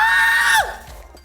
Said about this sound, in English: I did not mean to scream like that